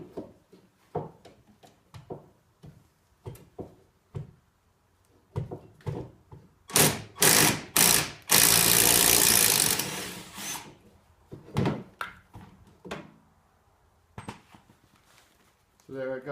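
A 10mm wrench works a brake hose bracket bolt on a Neon strut, with short metallic clicks and ratcheting scrapes spread through the clip and a loud, broadband rasping burst in the middle.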